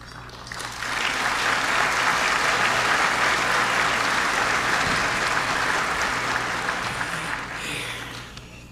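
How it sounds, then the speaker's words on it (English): A large dinner audience at a World Jewish Congress event bursts into loud, sustained applause that swells quickly, holds steady for several seconds, then tapers off. "we will triple the applause today"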